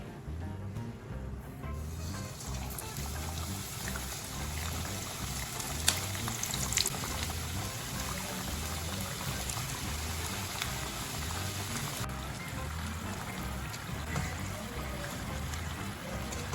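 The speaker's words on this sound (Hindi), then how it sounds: "दूसरे समोसे को भी इसी तरह पका लेंगे।" Samosas deep-fry in a pan of hot oil, a continuous bubbling hiss that stays even and fairly loud for the whole stretch, with no talk over it.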